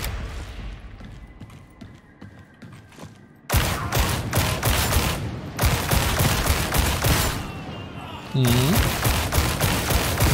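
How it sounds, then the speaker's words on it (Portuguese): Rapid gunfire rattles in the video game Warhammer 40K: Darktide, loud bursts of repeated shots in several volleys with brief quieter gaps and a short voice-like in-game sound near the end. "Boa sensação de disparo, gosto."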